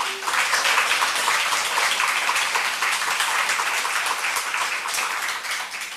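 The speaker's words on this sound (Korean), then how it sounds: "특히 사모님께 위로의 박수 한번 해 주십시오." Audience at a church revival meeting breaks into sustained applause, a dense, steady wash of many hands clapping that holds evenly at full strength throughout, with no speech over it.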